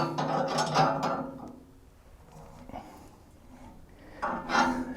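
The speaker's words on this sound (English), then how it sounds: "take a wrench, super tighten it." A wrench tightening a fitting during a backhoe repair, giving bursts of rough ratcheting and scraping metal at the start and end with a quieter stretch of faint clicks between, close by and without talk.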